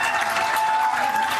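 An audience breaks into dense, continuous applause mixed with cheering, loud and sustained from start to finish, with a faint tone running beneath.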